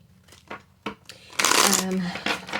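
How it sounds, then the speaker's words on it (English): Tarot cards riffle and flick together in a crisp, papery burst, with brief shuffling taps before and after, close to the listener. "So I'm going to go ahead and shuffle,"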